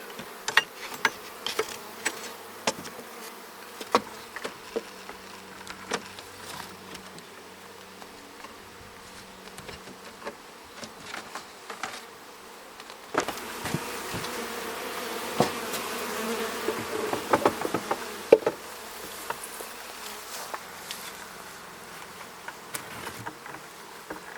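A dense, steady hum of many honeybees buzzing close by at an open, small hive, swelling louder partway through, with scattered individual bees zipping past.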